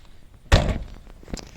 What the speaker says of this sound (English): Now, as you hop in, close the door.